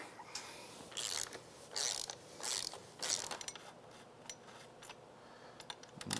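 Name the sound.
removing axle nut on KLX110 pit bike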